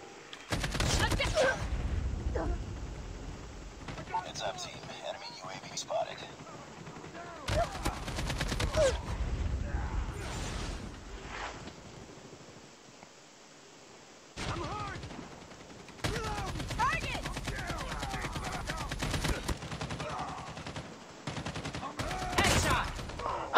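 AK-47 fire in Call of Duty Mobile, repeated bursts of rapid automatic shots in loud clusters separated by quieter gaps, with a voice talking at times between bursts.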